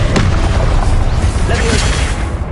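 A Confringo spell blast in the Hogwarts Legacy video game erupts as a dense, loud booming burst with crackling debris, continuous and close, while a voice speaks over the opening.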